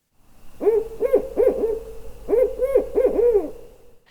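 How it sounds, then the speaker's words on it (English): A barred owl gives two clear series of rhythmic hoots, each a run of about four to five throaty calls with a pause between runs, close and loud against a quiet background. "the barred owl. Ooh, ooh, who cooks for you? He loves that sound."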